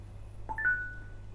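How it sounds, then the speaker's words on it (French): A short app notification chime rings alone, two or three quick bright tones rising over a faint steady hum, then a brief ringing tail. "c'est un petit son de notification, on a été alerté, il s'est passé quelque chose"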